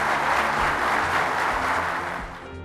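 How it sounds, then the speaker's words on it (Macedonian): A TV studio audience applauding, dense sustained clapping that stays full for most of the stretch before easing slightly toward the end. "Собраните аплаузи не значат ништо"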